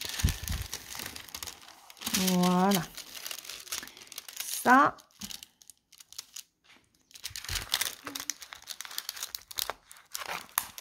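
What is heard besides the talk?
paper being handled and crinkled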